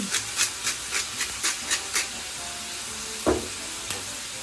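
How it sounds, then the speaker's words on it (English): Organic red cherry tomatoes cook in a hot pan for a pomodoro pasta sauce, giving a steady close sizzle with a quick run of rhythmic scraping or stirring bursts, then a single louder clack; no one speaks. "You do want your pan to be hot because then you want the tomatoes to start to cook."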